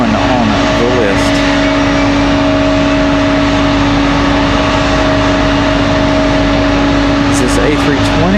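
Airbus A320 airliner at Raleigh-Durham International Airport, a loud continuous jet engine roar with a steady tonal whine, close by, with people talking over it.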